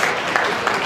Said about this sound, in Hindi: समझ में नहीं आया ताली बजा दो।